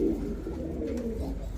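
A blue barless stretcher pigeon coos softly at a pigeon sale centre, one low murmuring call over faint background noise.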